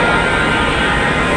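A metro rail train arrives at a Dhaka station platform as a loud, steady rumbling roar that fills the whole moment without a break.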